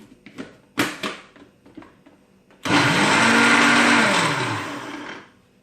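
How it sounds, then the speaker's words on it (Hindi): A blender whirs loudly for about two and a half seconds while making raw mango chutney, a steady high-pitched motor drone that winds down, after a few brief knocks and clatters. "तो अब मैं इसमें ये ऐड करने के बाद ब्लेंडर को चलाऊँगी।"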